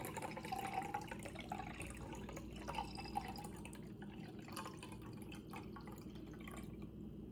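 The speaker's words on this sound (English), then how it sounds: "I'm actually just gonna fill this to the brim and see how much is A, in this cup" Liquid pours into a 12-ounce cup, filling it to the brim: a quiet, continuous trickle and splash with small drips, close by and with no speech.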